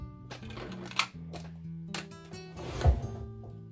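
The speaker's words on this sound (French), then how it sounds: "Désolée pour le bruit, c'est mon tiroir." A few wooden knocks and slides of a drawer being moved, close and fairly quiet, with separate thuds spaced across a few seconds.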